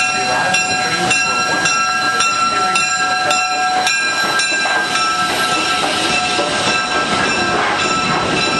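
A Tennessee Valley Railroad Museum excursion train arriving at a station rumbles loudly and continuously, with rhythmic clacking of wheels and a sustained metallic ringing tone throughout.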